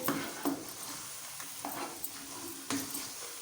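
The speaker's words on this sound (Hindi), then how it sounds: "ये देखें, इस तरह आपको जल्दी जल्दी ये मिक्स करना है।" Egg mixture being stirred quickly in a hot pan, a soft continuous sizzle broken by several sharp scraping strokes of a utensil against the pan.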